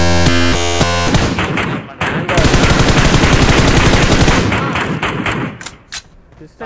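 Gunfire in the mobile battle royale game PUBG Mobile: loud, dense bursts of rapid automatic shots sustained for several seconds, with a brief gap, then tapering into a few scattered shots, mixed with game sounds.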